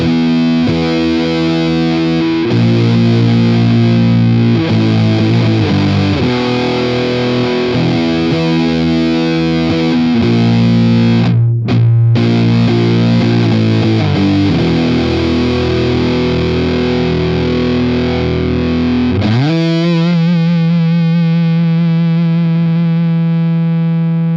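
Electric guitar through an EHX Russian Big Muff reissue fuzz with sustain maxed, playing loud, thick, compressed distorted chords and notes continuously, ending on a long ringing chord.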